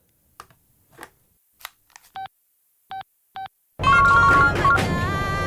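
A handset in a Tamil comedy scene sounds a few short beeps, then a loud, steady electronic ringtone starts and carries on alone.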